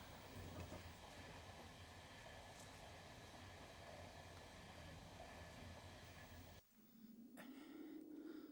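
Loud, steady train rumble and rail clatter fill most of the clip, then drop away abruptly near the end, leaving quieter background sound.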